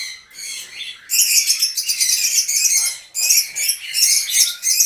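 Ten-month-old breeding lovebirds chirp and squawk close by in rapid, shrill bursts that come in clustered runs with short pauses between them.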